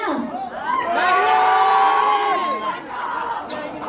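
An audience at a Bhojpuri stage show in Lucknow cheers and whoops, a swelling burst of crowd voices with shouts rising in the middle and easing toward the end, a single whistle-like tone near the close.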